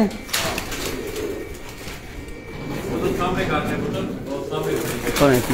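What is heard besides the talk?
A man's Dubai Teddy pigeons cooing in cage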